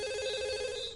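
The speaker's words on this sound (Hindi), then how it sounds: "अरे किसका फोन आ गया?" A telephone rings with a steady, bright electronic tone, alone and fairly clear, at home.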